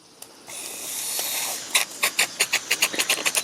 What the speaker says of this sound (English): the engine self-starts on steam